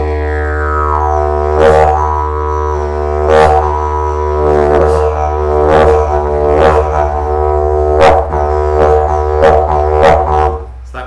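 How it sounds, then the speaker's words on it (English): Didgeridoo drone with a steady low fundamental and rich harmonics, punctuated by about eight rhythmic air pushes from cheeks, jaw and tongue that flare brightly every second or so, played alone and close. "So that was cheeks, jaw, tongue. Those create a push of air, and during that push of air out into the didge, I can take a breath in."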